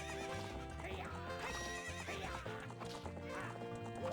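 A horse mid-race in a Zelda game, whinnying and galloping hooves layered under loud, dense game music, steady and continuous with no talking.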